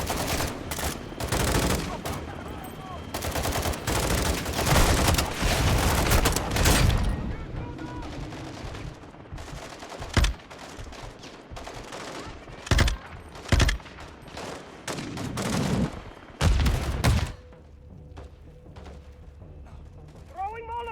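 Heavy gunfire in Call of Duty: Modern Warfare II during a convoy ambush, loud fusillades and machine gun bursts early, then sparser sharp shots and blasts, with a player talking over it.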